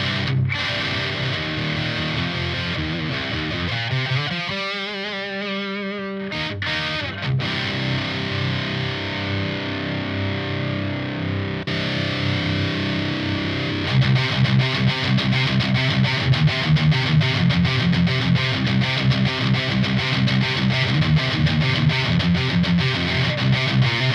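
Heavily distorted electric guitar through a Marshall JVM410 tube amp head with scooped metalcore tone plays chugging riffs and sustained chords, loud and saturated, with a brief cut in the middle before heavier palm-muted rhythm resumes.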